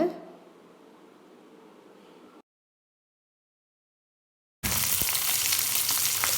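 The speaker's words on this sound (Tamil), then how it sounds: "ஒரு பேனில் ஆயில் விட்டுக்கோங்க. அது காஞ்சதும் இந்த கருவாடை எடுத்து அதில் போடுங்க." Dried fish sizzles loudly in hot oil in a pan, a steady broadband hiss that cuts out to silence midway, then returns louder and crisper.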